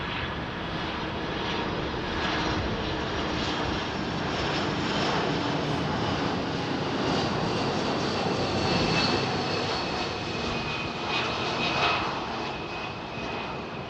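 A DHL heavy cargo aircraft at London Heathrow Airport on a cold, frosty morning, its engines producing a steady sustained roar that swells gently, heard from a distance without speech.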